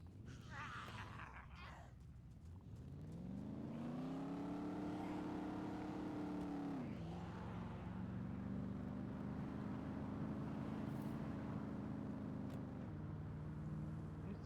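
A Range Rover drives in the DayZ video game, its engine rising in pitch as it accelerates, dropping at a gear change, then holding a steady drone before shifting again, with no talking over it.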